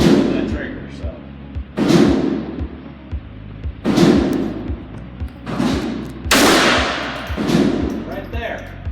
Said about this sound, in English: Watch that gun dip when you pull that trigger